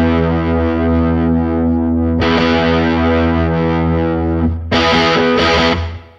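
Electric guitar played through an Ampeg-voiced SFT pedal with its treble control adjusted, a loud, distorted sustained chord ringing out, then restruck twice near the end with brighter attacks.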